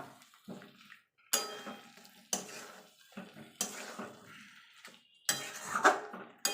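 Fried potatoes being stirred into masala in a pan for aloo dum, a series of loud separate metal scrapes and clatters of the spoon against the pan with short quiet gaps and a faint sizzle between.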